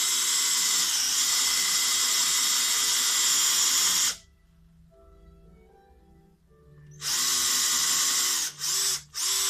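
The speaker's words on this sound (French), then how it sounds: "J'utilise ce foret juste pour créer un trou de l'autre côté pour pouvoir placer le foret et reprendre le perçage." An electric drill bores through an ash wood bench, a loud high whine for several seconds, then a quiet pause before the drill spins up again with a few short bursts at the end.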